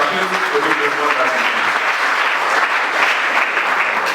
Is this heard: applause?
yes